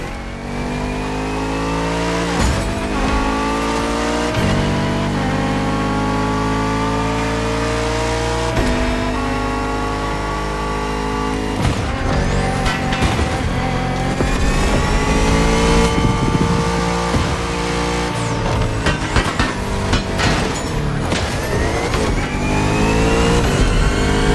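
Bugatti Vision GT in The Crew Motorfest, its engine loud and close, revving up in repeated rising sweeps with sharp shifts between them, building to a harder, denser roar toward the end.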